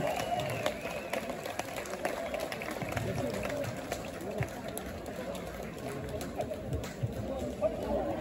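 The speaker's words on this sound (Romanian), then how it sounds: "Aplauze pentru primarul comunei Jurilovca, Eugen Ion." An outdoor crowd applauds and calls out as the mayor of the Jurilovca commune arrives at an evening public event; dense, steady noise over the whole stretch with voices mixed in.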